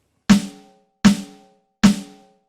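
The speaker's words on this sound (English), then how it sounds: "In this snare sound, I have a steel snare drum. The head sounds like this." Three evenly spaced strikes on the head of a Roland TD-07KV electronic drum pad, triggering a steel snare drum sound: sharp, bright cracks that each ring out briefly and decay to silence.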